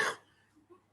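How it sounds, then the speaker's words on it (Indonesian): A single short cough at the start, followed by quiet breathing and faint room noise. "Maaf, saya masih batuk."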